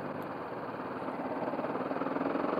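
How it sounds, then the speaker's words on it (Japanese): A BMW G 310 GS motorcycle engine putters at low revs in third gear during a U-turn, with a quick, even rhythmic beat, steady and fairly close, no voices. "タタタタっていう小気味良いエンジン音とともにスーッと 立ち上がってくれる"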